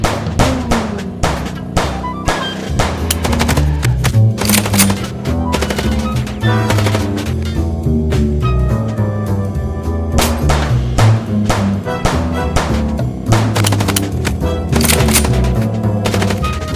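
Sustained gunfire in the Chicken Police video game, rapid machine-gun bursts and shots crackling loudly and almost without pause over a dense game soundtrack.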